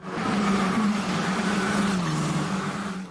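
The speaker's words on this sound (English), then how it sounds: "racing cars at nearly 190 miles per hour" A race car engine at nearly 190 miles per hour, a steady loud drone with a sustained, slightly wavering tone throughout, close and continuous with no talk.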